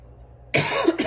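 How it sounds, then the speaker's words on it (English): After a quiet moment, a person lets out two close, sharp coughs in quick succession, loud and abrupt. "Apologize for the coughing, guys."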